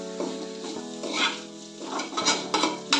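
Long beans being stir-fried in a pan are stirred after salting, with close, uneven scraping and clinking of a utensil over a soft sizzle, a few louder strokes toward the end.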